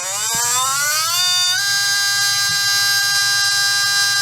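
A Trinity 17.5T slot car motor spins up to about 24,000 RPM, a loud high-pitched electric whine that rises in pitch during the first second and a half, then holds steady and continuous.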